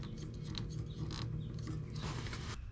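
An oil filter spun on by hand onto a Harley Road Glide during an oil cooler install, giving a close sequence of scraping, ratcheting mechanical rubs and creaks in irregular bursts.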